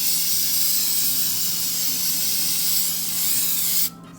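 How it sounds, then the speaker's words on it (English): A can of pure coconut oil cooking spray hisses in one continuous close burst for nearly four seconds, then cuts off abruptly. "I'm gonna use my pure coconut oil."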